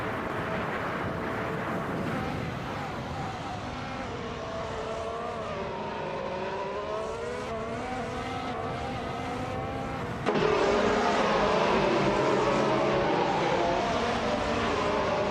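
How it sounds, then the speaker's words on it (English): F1 2017 race cars at Central International Circuit in a video game, engines whining and revving with shifting pitch, loud and continuous, growing louder and harsher in the final seconds as cars close in. "The F1 2017 cars at Central International Circuit create a balanced competition with skilled drivers, making the most of their vehicle performance and track layout."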